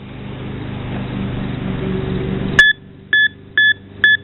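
A metal detector runs over a dirt clod with a loud engine-like drone, which cuts off and gives way to four short, evenly spaced electronic beeps, near and clear.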